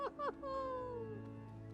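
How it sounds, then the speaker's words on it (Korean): A cat in the Hogwarts Legacy video game gives a short meow, then a longer drawn-out mew, clear and close with a faint game hum underneath. "고양이다."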